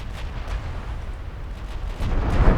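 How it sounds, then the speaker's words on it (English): Torpedoes hitting a ship in the naval video game Ultimate Admiral Dreadnoughts, a few muffled distant thuds followed by a heavy low rumbling explosion that swells louder near the end. "Our torpedoes are hitting."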